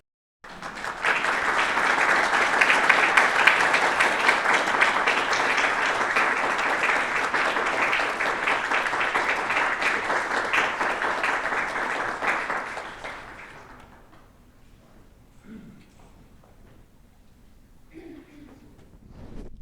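Audience applause welcoming the speakers at an artist roundtable talk, sustained and full, filling the room for about twelve seconds before fading into scattered claps and quiet.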